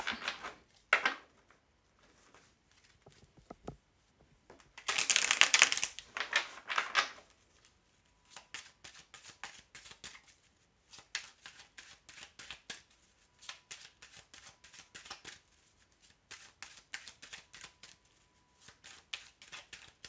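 Oracle cards are shuffled and laid out for a 13-card spread, making soft papery riffles, a louder burst of shuffling, then scattered light taps and flicks as cards are set down, all quiet and close.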